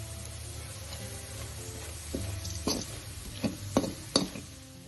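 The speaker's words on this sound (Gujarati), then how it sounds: "અને હવે આપણે આ બધી વસ્તુને બરાબર મિક્સ કરી લઈશું." Sabudana khichdi being stirred and mixed in a pan, several distinct spoon or spatula scrapes and taps against the pan over a low sizzle, close and fairly quiet with no talking.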